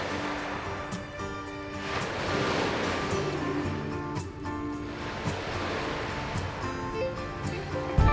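Waves wash onto a beach at San Carlos de Bariloche, Argentina, in the evening, a soft continuous rolling surf with gentle swells and light wind, with no talking.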